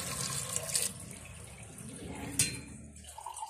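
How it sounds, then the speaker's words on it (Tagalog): Water is poured into a cooking pot for a broth to boil okra and eggplant, giving a steady splashing rush close by with a couple of louder gushes. "kaunting tubig lamang po mga kaguro ilalagay natin para po sa sabaw"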